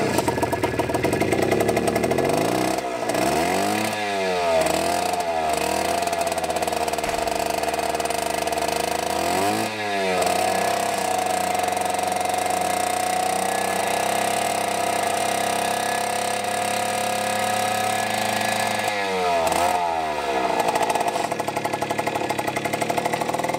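A Puch Magnum moped engine running rich on a ride, with a loud continuous buzzing drone that dips and rises as the revs change, close up and without talk.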